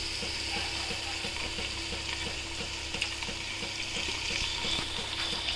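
Mint and coriander fry in a pan of masala for chicken pulao, giving a steady, moderately loud sizzle with occasional stirring scrapes throughout.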